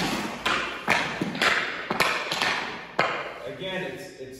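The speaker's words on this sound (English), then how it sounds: "I'm gonna try some wrist shots" Repeated sharp wrist shots struck with a Pro Kennex titanium hockey stick, about eight crisp thwacks at irregular intervals, close and fairly loud, with someone talking between them.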